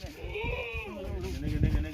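Goats at a goat farm holding about fifty-one animals bleat in wavering, drawn-out calls, several overlapping close by, while people talk over them.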